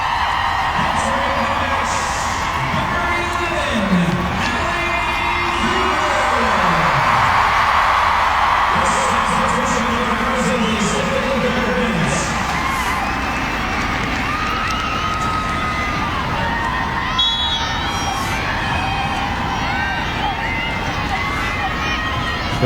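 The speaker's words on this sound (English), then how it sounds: "Carly Lloyd getting a huge round of applause here in Chester." Stadium crowd at a women's international soccer match in Chester on the banks of the Delaware, a broad continuous roar of applause and cheering, with a commentator talking over it.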